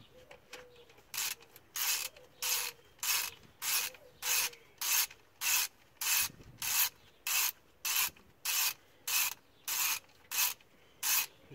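Two cylinder head bolts shaken inside a Peugeot 206 engine block, a regular series of about sixteen sharp metallic rattling bursts, evenly spaced and close, with no talk.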